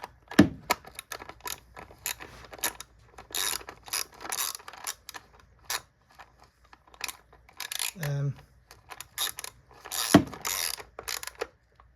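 A ratchet wrench tightens a spark plug in the engine of a 2016 Kia Soul SX, giving close, rapid clicking bursts repeated through the stretch, with brief pauses and a couple of sharp knocks.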